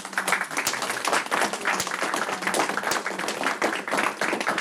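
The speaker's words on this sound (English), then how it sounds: "can we give her one more round of applause?" A room full of people at a school board meeting claps steadily, a warm round of applause that holds at an even level throughout.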